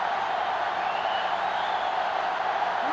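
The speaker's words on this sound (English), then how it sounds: "This sellout crowd is really making a difference now as these guys can't even call the play" Steady roar of a sellout stadium crowd in the NCAA Football 2005 video game, a Clemson vs. Florida State matchup, a constant dense wash of crowd noise holding at an even level throughout.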